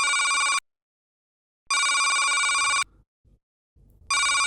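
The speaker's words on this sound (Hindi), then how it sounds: "वैसे फोन बज रहा है तुम्हारा।" A telephone ringing indoors, three loud bursts of an electronic bell tone separated by roughly one-second silences, with faint movement sounds in one gap and no talking.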